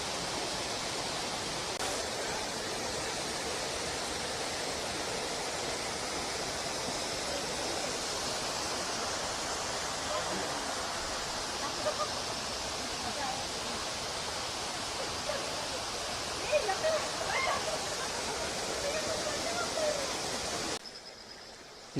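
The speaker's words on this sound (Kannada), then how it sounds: "ಇಲ್ಲಿ ನೋಡಿದ್ರೆ ಈ ಮೇಲ್ಗಡೆಯಿಂದ ಈ ಥರ ಬರ್ತಾ ಇದೆ ನೀರು" A waterfall in the Western Ghats on the Nethravathi trek near Kudremukh pours in a steady, continuous rushing hiss that stays unchanged throughout, with faint birds in the background.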